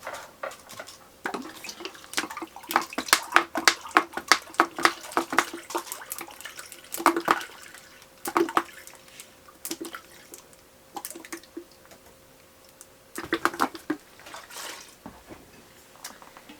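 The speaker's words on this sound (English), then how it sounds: "I'm also going to add a cup of the lemon juice." A cup of lemon juice is poured into a batch of zucchini, irregular glugging splashes and drips up close, coming in uneven spurts with short gaps.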